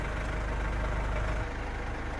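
A Mercedes Sprinter van (w906/w907) engine idles close by with a steady, low diesel rumble, easing slightly in level partway through.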